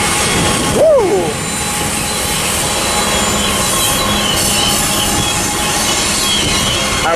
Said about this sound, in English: This is the entire reason we were waiting for this train for a while.